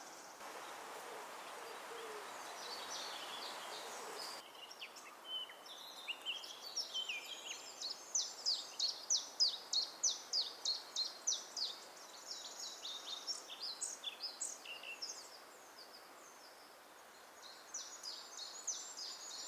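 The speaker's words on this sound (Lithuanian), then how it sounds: "Ir teisingai ir dabar gražiai čiulba įvairūs paukščiai." Various birds sing in Šilinė forest: repeated chirping and trilling phrases, some in rapid pulsed series, at a moderate distance and fairly faint over quiet woodland background.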